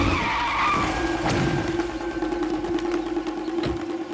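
A car skids to a halt in a Hindi thriller film scene, a loud sustained tire screech with engine noise that holds steady and then fades, with no talk.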